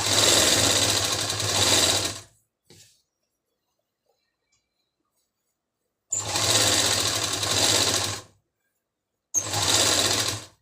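A sewing machine stitches a zipper onto the back neck of a kameez shirt, running in three loud, close bursts of steady motor whir separated by near-silent pauses.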